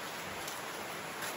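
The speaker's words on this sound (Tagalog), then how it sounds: "Biglang baksak yung ulan, lakas." Heavy rain suddenly pouring down outdoors, a steady dense hiss of drops on surfaces, continuous and fairly loud with no voices.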